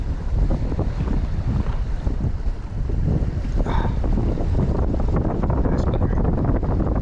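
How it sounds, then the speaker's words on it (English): Wind blowing over the Mississippi River during an October evening of fishing, a steady loud rushing buffet across the microphone with water-lapping undertones, constant throughout. "Wind's picking up, sun's going down."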